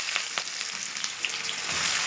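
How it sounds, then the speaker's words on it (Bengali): Chopped onion sizzles in hot oil tempered with cumin, dried chillies, whole spices and bay leaf, a dense bright crackle with scattered sharp pops, close and continuous. "এবার কুচনো পেঁয়াজ দিয়ে দেবো।"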